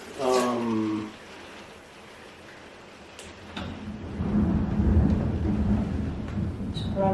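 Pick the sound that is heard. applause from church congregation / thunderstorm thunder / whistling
thunderstorm thunder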